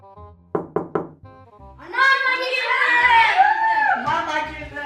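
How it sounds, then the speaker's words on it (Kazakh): Three quick, sharp knocks on a wooden door, the wolf knocking in the Kazakh fairy tale of the seven kids, followed by a lively voice talking over a soft background. "Ешкінің кеткенін көрген қасқыр үйшікке келіп есіктен қағады."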